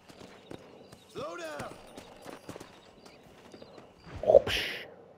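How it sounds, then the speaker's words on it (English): In Red Dead Redemption, a horse's hooves clip-clop in quick rhythmic beats, with a neigh partway through and a burst of noise near the end, while someone talks over it. "The horses are a lot freaking faster though, I tell you that much."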